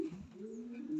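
Racing pigeon cooing at close range, a single low soft coo, fairly faint and alone.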